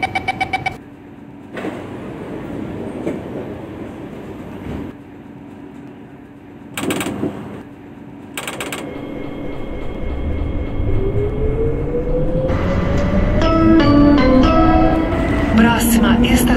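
A simulated São Paulo metro train (C151) at Parada Inglesa in OpenBVE closes its doors with chime-like tones, then pulls away as a rising motor whine builds steadily and grows louder toward the end.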